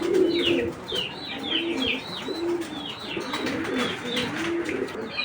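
Racing pigeons cooing in a loft, several birds giving repeated soft throaty coos in overlapping bursts with occasional light chirps, fairly close and steady.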